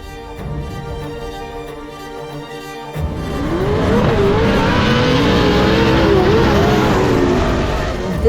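Racing trucks roar around a track in the late stages of a contested race, engines surging loud and steady after a quieter opening, with tires squealing and a commentator talking over it.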